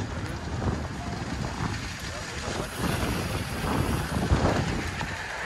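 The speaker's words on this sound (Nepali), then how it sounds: "यो हावा कस्तो चलेको हावा" Gusty wind buffets the microphone in a continuous roar, swelling and easing.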